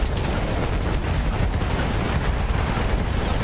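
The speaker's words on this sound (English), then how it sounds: "So much explosion." Continuous heavy explosions and battlefield rumble fill a Battlefield 1 campaign fight, loud, dense and booming without a break, with no talking.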